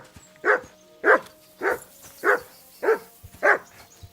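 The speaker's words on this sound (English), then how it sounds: "Good dog, Mutz" A dog in a video game barks six times in a slow, evenly spaced series, each bark clear and close over a quiet backdrop, with no talk.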